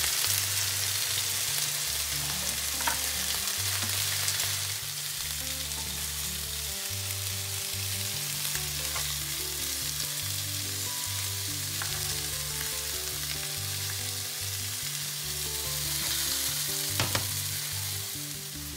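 Maple garlic chicken pieces fry and brown in a pan, a steady soft sizzle and crackle with occasional stirring and scraping, close and quiet, with no talking.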